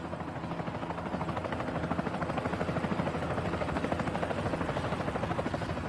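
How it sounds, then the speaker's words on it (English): A small helicopter's rotor chops steadily and loudly as it lifts off, a rapid rhythmic thudding with a whining engine underneath, holding constant throughout. "The small helicopter can barely lift her"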